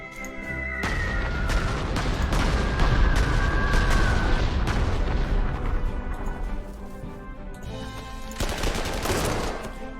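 Bombs exploding in the WWII strategy game Panzer Corps 2: a dense, continuous run of heavy blasts and rumbling impacts, loud and sustained, with a fresh burst of explosions near the end.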